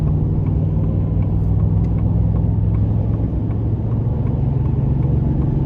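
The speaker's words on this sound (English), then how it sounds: "This 5-liter V8 likes to get high in the RPMs." A 2026 Ford F-150 Lobo's 5-liter V8 drones with a steady, loud low rumble and engine hum from inside the cab, holding a continuous tone without voices.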